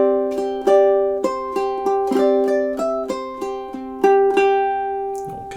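Two measures of a song ring out on a ukulele, played as close, resonant plucked notes and small chords that sustain into one another in a steady rhythm, with no talking.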